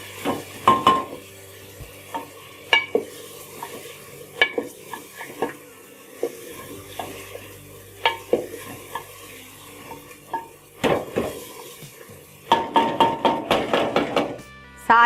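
Mutton with ginger garlic paste fries in a pot for bhuna gosht, a low sizzle broken by repeated sharp scrapes and knocks of a spoon against the pan, growing into a fast burst of stirring near the end.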